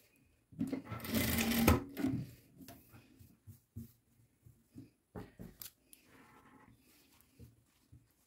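Sewing machine stitching the front side seams of a child's crop top, a loud continuous whir lasting about a second and a half, followed by a string of short, softer bursts and clicks.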